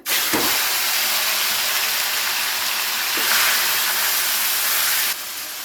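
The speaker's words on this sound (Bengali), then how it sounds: "তেলের মধ্যে দিয়ে দিচ্ছি এবারে ম্যারিনেশন করে রাখা সেই চিকেনটা।" Marinated chicken slid into hot oil gives a loud, continuous broadband sizzle and hiss that holds steady for several seconds before dropping off abruptly.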